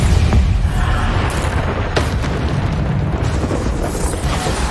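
Bombarda blasting-spell explosions from the Hogwarts Legacy video game, a dense run of loud booming bursts with sharp hits near the start and around two seconds, heavy rumble throughout and no voices.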